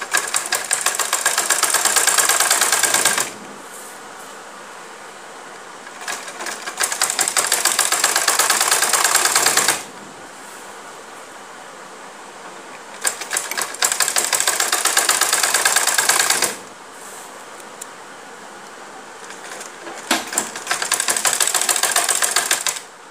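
A sewing machine running close by as it stitches down a strip of fabric on a kameez neckline, a rapid mechanical rattle in four long runs of a few seconds each, separated by quieter pauses.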